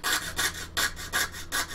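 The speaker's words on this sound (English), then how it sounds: "I'm cutting right through a rib on this side" A saw cuts through a rib of a stock part in rapid back-and-forth strokes, about six raspy pulses in under two seconds, close and alone with no talk.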